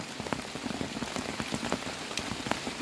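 Steady rain falls on a surface with dense patter and scattered louder drops, a constant close hiss with no talking.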